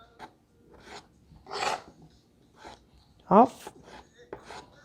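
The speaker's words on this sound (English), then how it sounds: "we're gonna start to cut our potatoes" A knife chops potatoes into small pieces on a board for a Neapolitan pasta and potatoes dish. The cuts are close and crisp, come in irregular strikes with pauses between them, and a single brief word is spoken.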